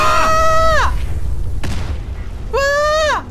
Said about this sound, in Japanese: あ、車が爆発するぞ。